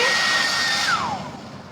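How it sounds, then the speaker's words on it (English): A hair dryer blows loudly and steadily while spreading paint for fluid art, a broad whooshing roar with a faint whine that dips in pitch and eases off slightly toward the end. "So now is the time to use my favorite, the hair dryer."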